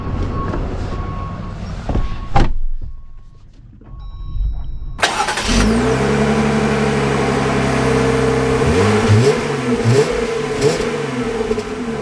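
A Jeep Wrangler engine cranks and fires after a pause, then runs loud and close with rising and falling revs, a strong throaty drone with audible gear and throttle changes.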